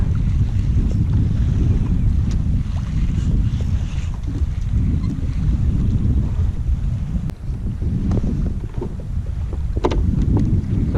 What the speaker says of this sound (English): the wind is way higher than I expected